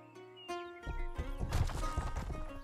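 Hooves clop rapidly in an uneven gallop in a medieval video game, close and fairly loud, over a sustained musical tone.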